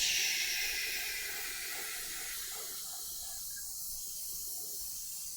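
A steady airbrush hiss of spraying paint on a miniature, strongest at the start and then continuing as a softer, even spray.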